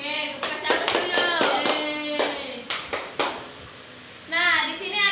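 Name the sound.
class of children applauding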